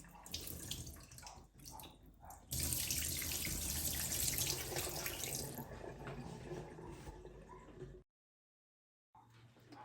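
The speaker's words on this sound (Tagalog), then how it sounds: "Okay, so we need to rinse the glutinous rice. Rinse well." Glutinous rice rinsed under a running kitchen tap, water splashing steadily and loudly into the grains, swelling in the middle, then a brief silence and the flow resuming near the end, with no talk.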